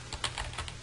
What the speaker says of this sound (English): we're going to type sudo